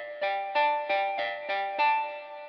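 Marimba sample instrument played through a room reverb: six evenly spaced mallet notes ring out clearly, each decaying into a short roomy tail that overlaps the next.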